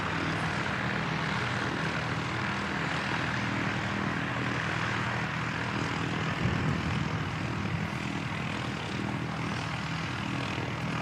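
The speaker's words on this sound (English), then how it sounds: "Also got another ATR coming in from Wellington." An ATR turboprop airliner arriving from Wellington at Christchurch Airport, a steady broad engine roar held at an even level throughout, with no voices over it.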